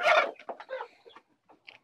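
Kotlyarevskaya breed hens on a small farm give a few close, quick clucks and soft calls, fading into quiet with faint chirps at the end.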